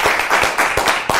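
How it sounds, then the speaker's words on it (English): An audience applauds a magician after a coin trick, a steady wash of many hands clapping close and loud throughout. "Big round of applause"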